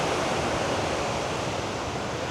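At Shrivardhan beach at high tide, the sea gives off a continuous wash of surf, a broad steady roar with some wind, and no voices.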